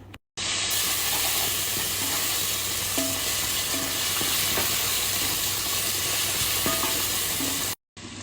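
Chicken for tikka masala frying in a pan, a steady loud sizzle and hiss with a few light scrapes of stirring, cutting in and out at the edges.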